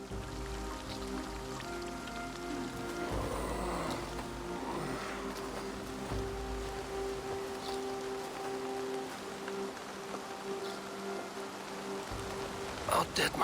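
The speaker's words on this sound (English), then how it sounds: "It was raining a lot right now." Rain falling in Assassin's Creed Valhalla, a soft continuous hiss of downpour layered with faint game ambience and low rumbling tones, with a muffled voice mixed in beneath.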